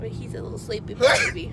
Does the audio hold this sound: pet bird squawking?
no